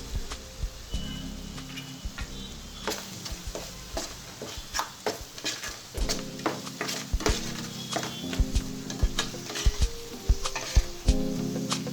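Chili powder, salt and coriander powder stirred into a sizzling fish curry in a pan. There is a steady close sizzle, and a scattering of sharp ladle scrapes and clinks grows busier toward the end, with no talking.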